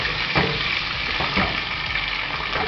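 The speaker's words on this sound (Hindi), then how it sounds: "अब हम इसमें डालेंगे अदरक। अदरक डालकर अच्छी तरह चलाएंगे।" Ginger added to frying chicken in a pan for biryani, a steady close sizzle with a few soft scrapes as it is stirred, with no talking.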